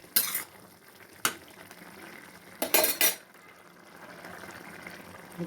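Tempering spices are stirred in a pan for shukto, with a few sharp metal spoon clacks and scrapes against the pan over a faint background sizzle.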